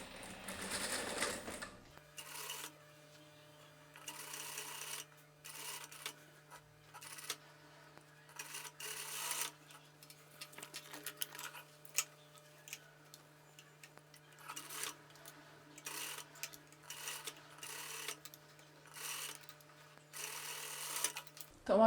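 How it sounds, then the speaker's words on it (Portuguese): Sewing machine stitching a dress seam with a 1 cm seam allowance, running in rapid bursts broken by short pauses, with a steady mechanical hum underneath and a voice talking over it. "sempre costurando aqui, ó, com 1 centímetro de margem de costura"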